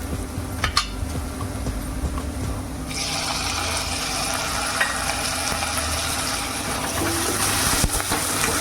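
Onion and tomato frying in a pan for a wal bean (birde) curry, a steady close sizzle that brightens and thickens partway through, with occasional stirring scrapes and no voices.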